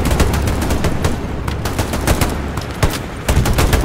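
Dense, rapid gunfire from the World War II shooter game Hell Let Loose crackles in continuous bursts. Sharp automatic shots overlap throughout at close range and high volume.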